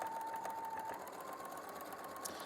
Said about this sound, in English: And then I'm going to start to sew.